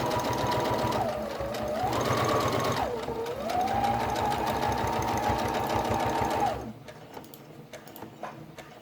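A sewing machine running a straight stitch through felt, a steady fast mechanical whir with a motor tone that rises and holds for several seconds, then stops abruptly into quiet handling noises.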